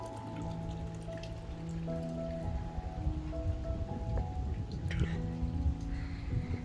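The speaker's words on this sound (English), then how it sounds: "if you listen carefully, my pond is beautiful sounding" Water trickling and dripping steadily in a backyard garden pond, a faint, continuous patter heard close to the microphone over a quiet, dry outdoor setting.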